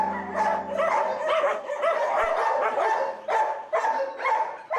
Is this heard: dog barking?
yes